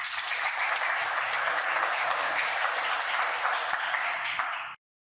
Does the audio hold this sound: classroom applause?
yes